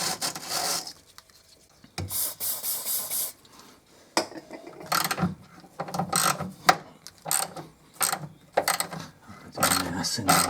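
Close ratcheting and grinding clicks from a wrench tightening a nut on a roll bar bolt on a 2001 Mercedes SLK, coming in uneven bursts of strokes with brief gaps, with no voices.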